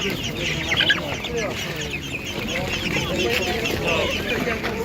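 Purebred laying hens cluck and squawk at a Ukrainian livestock market, close and busy, with people talking over the birds.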